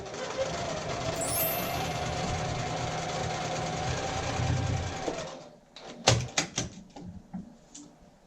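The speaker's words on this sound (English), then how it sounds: "I'm going to take it over to my machine, and I'm going to sew here at a scant 1/4 inch" A sewing machine stitches a quilt block at a scant quarter inch, running steadily for about five seconds, then stopping and giving way to a few sharp clicks and knocks as the work is handled.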